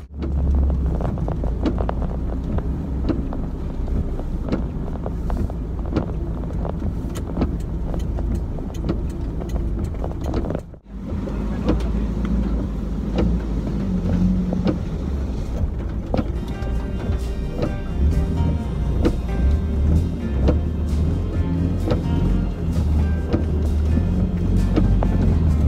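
A two-door 1992 Suzuki Vitara SWB, modified for off-road use, is driven with a steady, loud engine drone and heavy wind buffeting the microphone. There is a brief dip near the middle, then the engine noise grows rougher.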